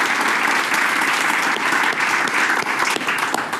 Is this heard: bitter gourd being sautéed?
no